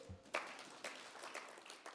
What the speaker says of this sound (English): A round of applause for the yesterday.